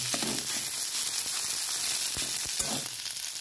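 Boiled, grated potato sautéed with spices in a pan, a steady broadband sizzle running throughout with occasional soft scraping touches of a spoon, close and moderately loud, no talking.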